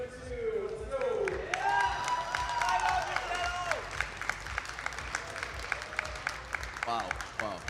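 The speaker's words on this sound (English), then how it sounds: "Let's have everybody give a round of applause for day number 2." Audience applause and cheering at a VR esports event in Amsterdam for Pavlov, VAIL and Orion Drift grand finals: steady crowd clapping throughout, with a loud voice shouting over it and whoops rising near the end.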